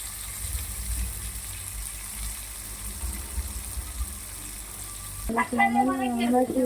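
Onion, green chili and tomato fry with curry leaves in a pan, giving a steady, close sizzle for several seconds before a voice starts talking over the frying.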